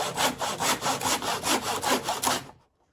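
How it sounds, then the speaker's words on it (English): Child cutting wood with a hand saw, about a dozen rhythmic back-and-forth rasping strokes, close and clear, then abrupt silence. "Now it's all set up for the child to do the sawing completely by themselves."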